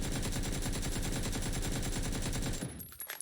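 Rapid automatic gunfire from the PUBG video game during a console recoil test, a continuous even stream of shots for about two and a half seconds, then abruptly stopping into quieter trailing noise.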